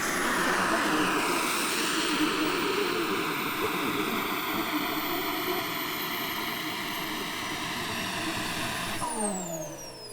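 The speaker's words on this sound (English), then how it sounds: "The plane feels good. It feels locked in." Extreme Flight Slick 580 RC model plane buzzing steadily and loudly through a close flyby, engine tone holding then dropping away with a pitch shift near the end, voices talking underneath.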